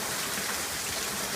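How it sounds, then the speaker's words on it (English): Heavy hurricane rain from the first rain band pours down steadily, a dense loud hiss of water overflowing the gutters, with no voices. "It's raining so hard it's actually blowing over my gutters, filling my gutters over."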